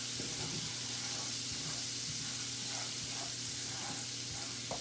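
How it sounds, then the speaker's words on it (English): Bacon drippings in a pan sizzle steadily during deglazing, producing a continuous close hiss with faint stirring and cooking noises underneath. "I'm going to kind of deglaze that pan a little bit from the bacon that's fried up"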